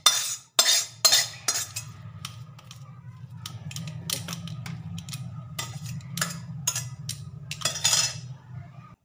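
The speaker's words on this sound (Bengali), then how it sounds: "এবার এটিকে একটি পাত্রে আমি ঢেলে নেব।" Spiced potato filling for a dosa made from leftover puffed rice is scraped into a bowl, with a series of sharp metal spoon clinks and taps against the pan over a low steady hum, no talking.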